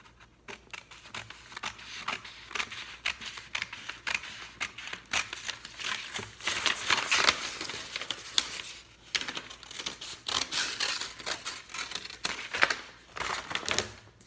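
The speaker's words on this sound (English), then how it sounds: "I'm just gonna cut out this kite shape" Scissors snip through paper while a kite shape is cut out, giving irregular crisp cuts, rustles and crinkles of the sheet, close and fairly quiet, with no talking.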